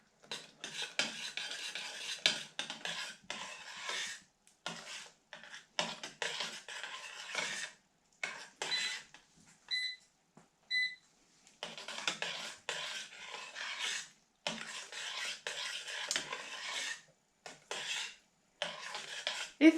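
Cooked peas being stirred into a puree in a Roman-style pot, with repeated scraping and rasping strokes of a utensil against the pot in irregular bursts and short pauses, close and fairly quiet.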